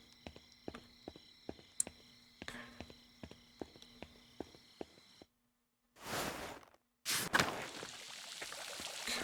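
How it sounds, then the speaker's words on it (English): Liquid dripping in a cloister in the game Pentiment, a steady run of small, crisp drops at an even pace, followed by a short silence and then louder bursts of rushing noise. "Things dripping"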